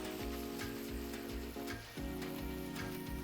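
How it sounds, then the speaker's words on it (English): Steady, dense sizzling of ricotta gnocchi frying in a hot pan, a constant crackle with a brief dip partway through and no talking. "You can hear them sizzling."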